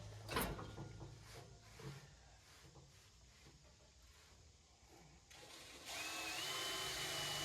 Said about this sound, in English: I'm just gonna do some drilling.